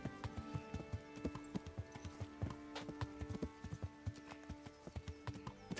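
A horse's hooves clip-clop in a steady walking rhythm in Kingdom Come: Deliverance, crisp and fairly close over a quiet ambient background.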